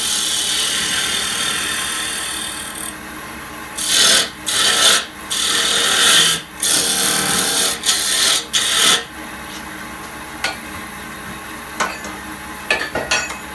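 Woodturning tool cutting a thin wooden goblet on a lathe, a steady rasping scrape that breaks into several short bursts of harsher cutting near the middle, then fades to lighter, intermittent scraping toward the end.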